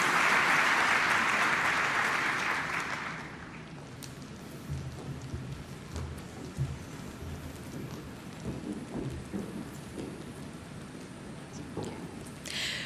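Loud audience applause after a performance at the ASEAN summit retreat session in Jakarta. It starts as a dense, sustained roar of clapping, then fades after a few seconds into a quieter hall murmur.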